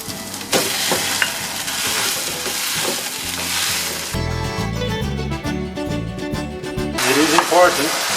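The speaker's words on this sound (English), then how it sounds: "important to mix the meat well while it's cooking, so it will not clump together." Ground meat for a classic Italian lasagne fries in a pan with a steady close sizzle while it is stirred and broken up, its scraping strokes recurring throughout, with a voice talking over part of it.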